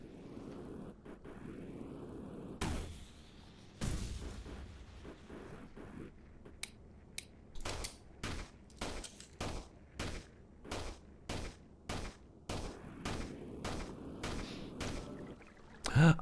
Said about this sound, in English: check out what our new rocket does. Explodes into incendiaries